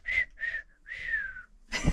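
A person whistles a short tune of three tonal notes, the last one long and sliding downward, followed by a brief noisy rustle.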